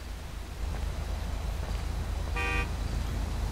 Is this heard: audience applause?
no